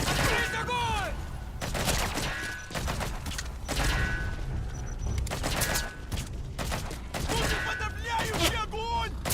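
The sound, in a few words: gunfire from a video game, Metal Gear Solid V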